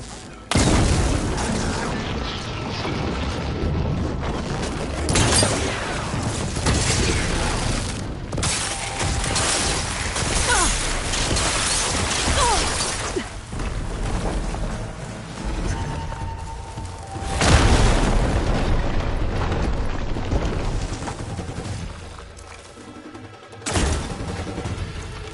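In the video game Horizon Forbidden West, a support beam is shot and comes crashing down amid a dense, roaring barrage of booms, impacts and collapsing debris that continues loud and layered throughout.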